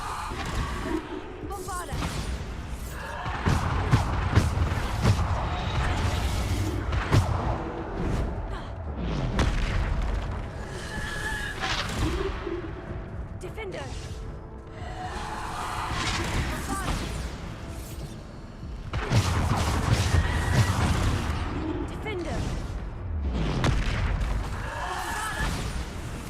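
Repeated booming blasts from the Bombarda explosion spell in the modded game Hogwarts Legacy, fought against dark wizards, land in loud bursts over roughly half a minute while a player talks over the action.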